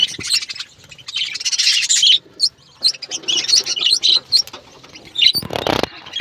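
Pet colony birds in a home aviary chirping in quick, bright bursts, close and fairly loud, with overlapping calls and a brief rustle near the end.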